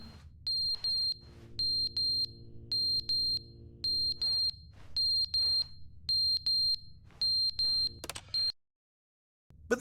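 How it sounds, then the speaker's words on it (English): In the video game The Stanley Parable, a button alarm beeps in a loud, regular pattern of paired electronic tones over a low hum, repeating for several seconds before cutting off abruptly. "The button is beeping."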